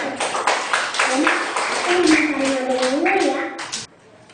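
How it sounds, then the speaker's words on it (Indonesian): Schoolchildren clapping their hands in a classroom during a lesson on measuring tools, a rapid patter of claps mixed with lively children's and teacher's voices talking over it before the noise cuts off abruptly near the end. "Boleh tepuk tangan."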